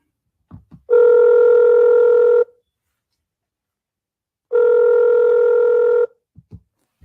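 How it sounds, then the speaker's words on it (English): A telephone rings twice with long steady electronic tones, each lasting about a second and a half with a pause between, loud and close, with faint clicks around them and no talk. "when the telephone rang."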